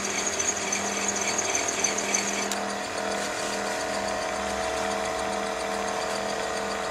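A gem faceting machine spins steadily while polishing a kunzite stone on its lap, giving a continuous whirring drone with a steady low hum and no talk.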